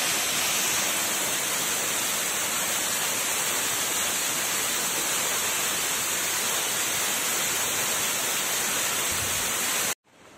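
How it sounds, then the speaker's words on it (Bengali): Sekumpul waterfall in Bali roars as a loud, steady, dense rush of falling water that fills the whole stretch, then cuts off abruptly near the end. "যখন আমরা অ্যাকচুয়ালি দেখা পেলাম সেকুমপুল ওয়াটারফলসে"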